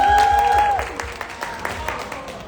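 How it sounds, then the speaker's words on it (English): Audience applause for a fashion panel at Nordstrom NYC, a short burst of clapping that fades over a couple of seconds while a voice talks over its start. "So, round of applause for them for being here."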